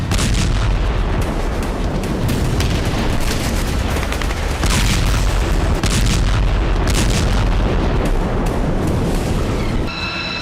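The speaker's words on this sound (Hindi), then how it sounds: "अमेरिकी वायुसेना ने यमन की राजधानी सना और सादा के आसपास जबरदस्त बमबारी की" Bombs from US Air Force strikes explode around Sanaa and Saada in Yemen. Booms and blasts pile up into a dense, continuous roar that stays loud throughout, with no voices.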